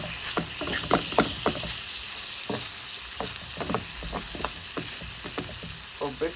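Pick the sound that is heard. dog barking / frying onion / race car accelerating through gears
frying onion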